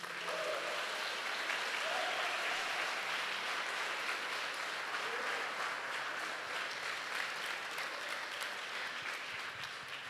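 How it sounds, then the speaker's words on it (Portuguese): Church congregation at a deliverance and inner-healing seminar breaking into sustained, dense applause, steady and fairly loud, with faint voices mixed into the clapping. "Salva de palmas para Jesus."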